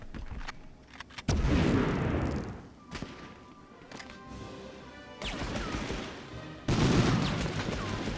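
Grenade blasts in the PS1 game Medal of Honor: several loud, booming bursts with rumbling decay that break through quieter stretches of gameplay noise.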